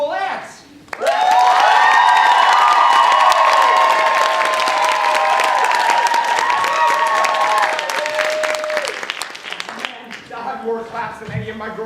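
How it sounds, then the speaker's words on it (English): An audience at a live comedy show bursts into loud applause and cheering for the first contestant, sustained clapping and whoops lasting several seconds before fading into scattered claps and chatter. "measure the applause for our first contestant, the cool ants"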